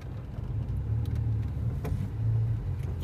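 A car engine hums low and steady under light acceleration on a test drive, a close, continuous rumble from inside the cabin with a few faint clicks and no talking.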